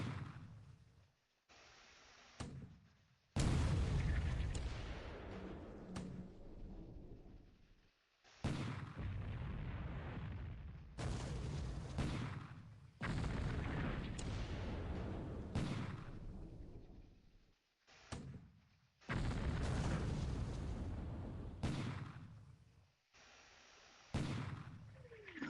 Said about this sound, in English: now we surface and fire with deck guns